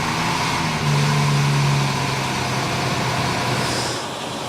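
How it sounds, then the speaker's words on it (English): A BMW 7 Series engine fires up and settles into a steady, loud idle with a low hum, running on without any talk. "The next thing that I'm going to do then is fire the engine up"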